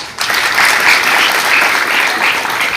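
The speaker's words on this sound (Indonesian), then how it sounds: "Sekali lagi tepuk tangan." School assembly audience applauding during a student orientation at a junior high school in Kupang, a loud, dense wash of clapping that rises quickly after a brief pause and holds steady.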